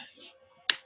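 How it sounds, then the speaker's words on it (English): Faint, low background murmur gives way to one loud, close hand clap near the end, its snap cutting off quickly. "Clap your hands."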